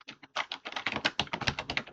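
Rapid typing on a computer keyboard, a steady run of close, crisp key taps with no voice over it.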